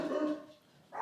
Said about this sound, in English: I apologize for my dogs going crazy.